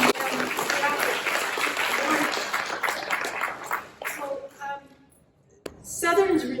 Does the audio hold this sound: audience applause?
yes